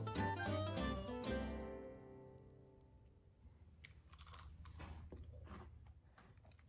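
Someone bites into a crunchy homemade oatmeal cookie with nuts and raisins, giving a few close, crisp crunches followed by quieter chewing, with no talk.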